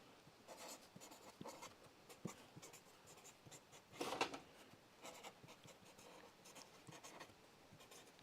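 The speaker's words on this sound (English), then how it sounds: "got to write down the dimensions for the gas tank" Someone writes dimensions for a truck's gas tank by hand, pen scratching against paper in short irregular strokes with pauses between words, close and quiet.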